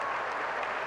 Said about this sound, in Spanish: vamos a darle un aplauso de estímulo